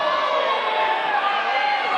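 A live independent wrestling crowd cheers steadily as fans chant for wrestler Thor Theriot, a dense, continuous roar of many voices filling the hall throughout, with no clear individual words standing out.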